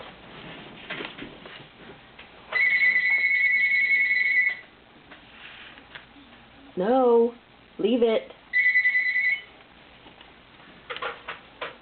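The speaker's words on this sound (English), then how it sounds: "the phone was ringing" A telephone rings indoors in a few long electronic bursts with pauses between them, loud and close, while a person speaks briefly in between.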